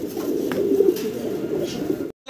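Pigeons coo steadily in a loft of paired running pigeons, a continuous low murmuring of soft coos lasting about two seconds before cutting to brief silence, with no talk.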